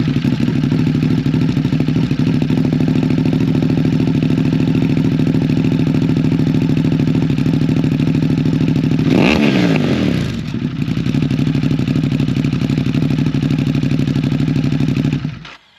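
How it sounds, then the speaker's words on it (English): A 2021 Ducati Monster fitted with a Termignoni exhaust runs loud and steady at idle, with one sharp swooping rev and drop midway before it settles back to a throbbing idle and then cuts off. No one speaks. "Here is the startup on the Termignoni system."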